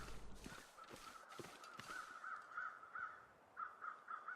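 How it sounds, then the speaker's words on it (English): Crows caw repeatedly in The Long Dark, near a bridge where they circle a dead body, a run of harsh calls in quick pairs and triplets, moderately loud over faint wind-like ambience. "We've got crows at the end of the bridge."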